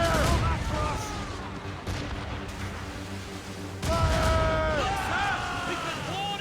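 Naval cannon fire during a ship battle in the video game Assassin's Creed Rogue, with heavy booms rolling continuously under loud, overlapping shouted commands from crew voices.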